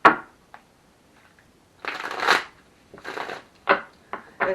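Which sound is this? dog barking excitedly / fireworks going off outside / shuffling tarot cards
shuffling tarot cards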